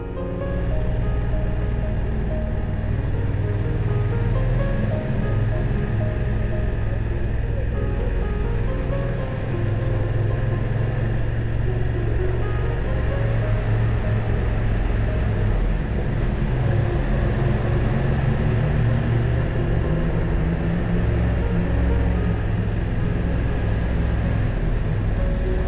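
A BMW F900R motorcycle engine runs steadily while riding, a continuous loud low drone with wind rush that holds level throughout, with no voices.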